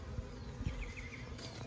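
Honeybees in a beehive inside a couch in Leander, Texas hum in a steady, dense close-up drone, with a few brief louder passes over the swarm.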